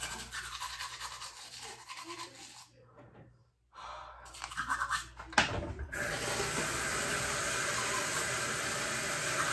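A toothbrush scrubs teeth with steady wet rubbing strokes, close and fairly quiet, briefly pausing before resuming with a denser, brighter brushing hiss.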